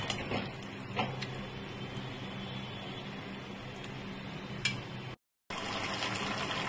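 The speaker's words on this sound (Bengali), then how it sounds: "ভালোভাবে ফুটছে" Jackfruit curry with green chilies and a little added water bubbles at a gentle simmer in the pot, soft irregular bubbling and liquid gurgles close by with a few louder pops, quiet overall, broken by a brief silent gap.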